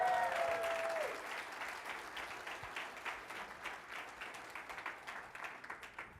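A conference crowd at LibertyCon International 2022 breaks into applause after a short vocal whoop, the clapping loud at first and then thinning into scattered individual claps that trail off.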